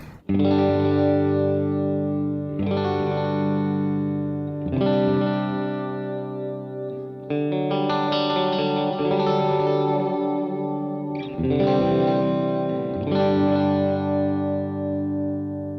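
A Stratocaster electric guitar plays ringing clean chords with shimmering chorus and reverb, each strum sustaining and overlapping in a slow, spacious sequence.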